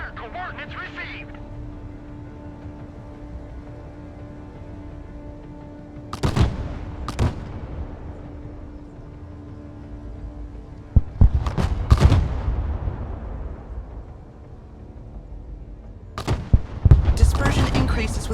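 Mortar and artillery fire in the military strategy game Broken Arrow: several heavy booming blasts arrive in spaced clusters, some in quick double bursts, each rolling off into a fading rumble between quieter stretches, with a voice briefly present early on.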